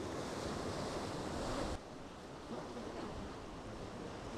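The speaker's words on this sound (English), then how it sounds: "the surf is coming right up to the mouth of that arch" Steady, roaring ocean surf washes against the mouth of a sea arch, a dense continuous rush with wind buffeting the microphone and no voices.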